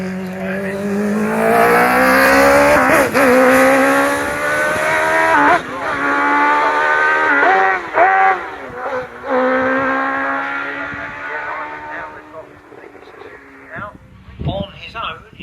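Hayabusa-engined Coachram hillclimb race car at Gurston Down, a loud high-revving engine screaming up through rapid gearchanges then fading away, with a commentator talking over it.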